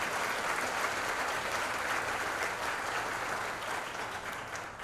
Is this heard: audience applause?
yes